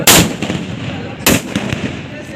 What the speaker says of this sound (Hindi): दोनों पक्ष निरंतर फायरिंग हो रही है